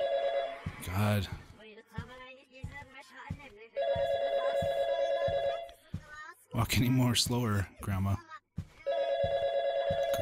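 Telephone ringing in repeated bursts of bright, warbling electronic tones, loud and close, alternating with people talking between the rings.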